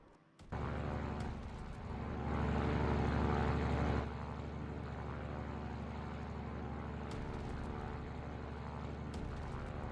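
A constant droning cargo plane engine in a Roblox video game, with a low propeller hum, swelling briefly louder early on before settling into a steady roar.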